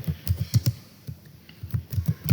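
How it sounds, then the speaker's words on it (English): Computer keyboard typing a sheet name in Excel, a quick close burst of key clicks, then a pause and another short run of keystrokes. "We have to type the name of sheet here"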